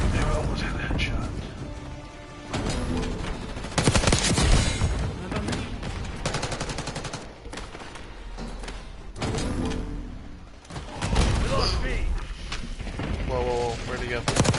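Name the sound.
Jackal PDW submachine gun firing in Black Ops 6 video game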